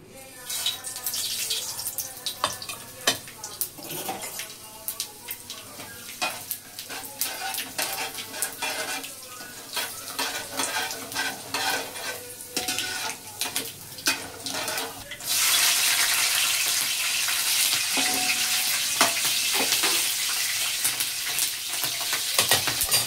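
Cumin seeds, green chilies split in two, curry leaves and a pinch of turmeric frying in hot oil, a loud, continuous crackling sizzle that grows denser and hissier partway through, with no talking.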